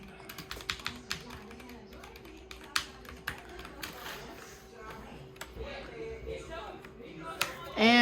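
Typing on a HyperX Pro TKL mechanical keyboard, a quick run of crisp nearby clicks and taps with short pauses, under an electrical hum.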